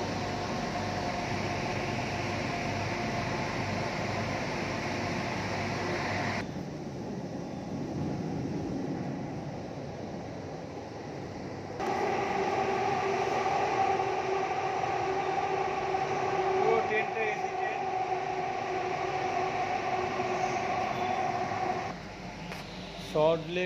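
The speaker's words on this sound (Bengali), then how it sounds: "এবার ট্রেনটা ফুল বাগান থেকে ছাড়লো" A Kolkata metro train pulls out of Phool Bagan station, its steady rumble and hum running throughout, dropping briefly and then rising again as it gathers speed.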